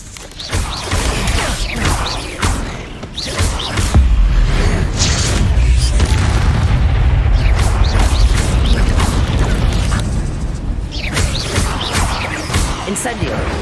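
Depulso force-push spell cast in Hogwarts Legacy, a loud whooshing magical blast with crashing, rumbling impact debris and mechanical clatter, set against game sounds while a player shouts spell names.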